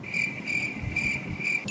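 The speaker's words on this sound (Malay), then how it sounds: "Kebanyakan cengkerik yang mengilai adalah cengkerik jantan." Crickets chirp in clear, evenly spaced shrill trills, four regular pulses that ring close and steady over a low background rumble, with no voices.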